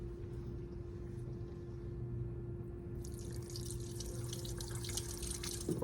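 A low steady hum, then running water starts partway through, a continuous close rushing splash from a tap rinsing an instrument.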